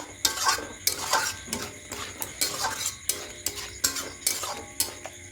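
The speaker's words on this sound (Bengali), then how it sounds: "একটু গরম মশলা পাউডার দিয়ে দেবো খুব ভালো করে মিশিয়ে নেব" A spoon stirs paneer curry with garam masala powder in a pan, giving a close, rhythmic series of metallic scrapes and knocks against the pan roughly every half second, with a faint sizzle and no talk.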